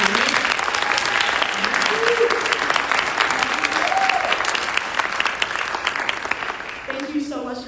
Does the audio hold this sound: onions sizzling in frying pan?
no